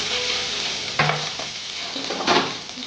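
Green chilies, bay leaf and five-spice seeds sputter in hot oil, a dense close crackling sizzle with two brief stirring scrapes, no talking heard.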